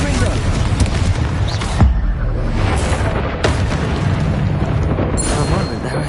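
A Confringo spell in Hogwarts Legacy bursts into loud, rumbling explosive booms amid dense combat noise, with a voice talking over it.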